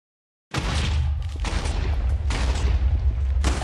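Backfire cannon firing in the Minecraft Hexxit mod: a sudden loud blast kicks in and rolls into a sustained rumbling barrage, with renewed bursts of crackling noise recurring through the rest.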